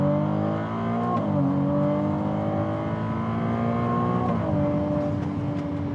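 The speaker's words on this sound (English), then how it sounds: "Ferrari's done an awesome job being able to take a six-cylinder engine and make it completely sound like an eight-cylinder" Ferrari 296 GTB V6 engine pulling hard in second gear, a loud, steady rising drone with two clear upshift-like drops in pitch partway through, heard from inside the car with no talk.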